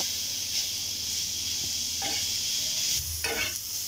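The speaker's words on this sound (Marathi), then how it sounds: "सर्वप्रथम आपल्याला आलं, लसूण आणि कांदा थोडा परतून घ्यायचा आहे" Ginger, garlic and onion sauté in a hot pan for a spicy mutton curry, giving a steady close sizzle with occasional stirring scrapes and no talking.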